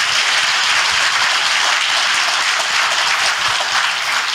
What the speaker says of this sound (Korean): 공감하시면 박수 한번 치면 고맙겠습니다.